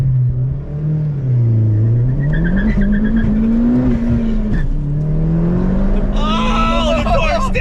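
A stock-engined sleeper car launches hard, its engine note climbing loud and close with rising revs and a squeal of tires near the end, while excited voices talk over it.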